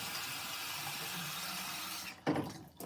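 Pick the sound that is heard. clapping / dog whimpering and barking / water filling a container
water filling a container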